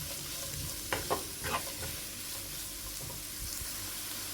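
Onions frying in a pan for Kerala-style squid (koonthal) pepper masala, a steady close sizzle broken by several scraping stirs in the first two seconds and a few more knocks later, with no talking.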